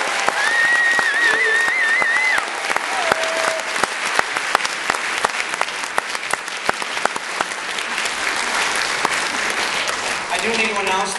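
A crowd at a high school band senior awards night gives sustained applause, with whistles and scattered cheers over the thick clapping, which thins out near the end.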